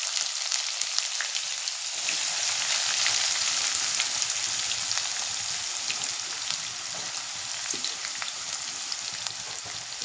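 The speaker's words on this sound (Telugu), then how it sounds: "పచ్చిమిర్చి, పప్పులు మనకి ఫ్రై అయిపోయినాయని నేను ఆనియన్ వేసేస్తున్నాను" Onions, green chillies and chana dal sizzle in hot oil for a catering-style capsicum fry, a loud, steady, close frying hiss with light crackle that runs unbroken, with no voices.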